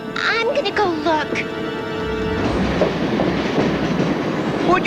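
A cartoon train runs along rails with a continuous rumbling clatter that builds and fills the second half, after excited voices and squeaky sound effects at the start.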